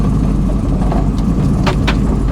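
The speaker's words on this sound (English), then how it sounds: "listen to those new tires" A steady low road rumble from brand-new tires on a Pontiac Trans Am WS6 rolling on pavement, loud and close, with faint rattles on top.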